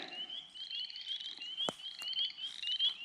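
Spring peepers send shrill, high, repeated peeping calls while frogs croak now and then, including one sharp nearby croak, all outdoors in a steady chorus with no voices.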